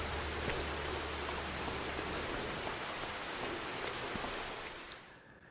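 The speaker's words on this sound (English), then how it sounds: "Maybe it'll stop raining." Steady rain in the video game Farming Simulator 25 during a Tuscan winter, a dense even patter of drops that holds at a constant level and then fades out near the end, with no voices.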